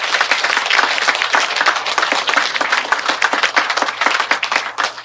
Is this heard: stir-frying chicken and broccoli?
no